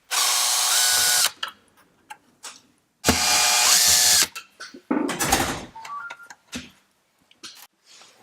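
A power screwdriver whirs loudly in two long bursts while backing out screws from a Gene Cafe coffee roaster's left damper, followed by short clicks, rattles and clatter of parts being handled.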